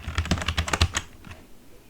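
Fingers tap out a quick burst of text on a computer keyboard, the keys clattering close and loud for about a second before falling quiet.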